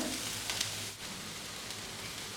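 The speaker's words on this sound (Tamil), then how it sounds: "இப்போ இந்த காய்கறிலாம் நல்லா வதக்கலாம்" Raw chopped vegetables sauté in a hot pan, giving a steady, close, continuous sizzle and hiss with no voices over it.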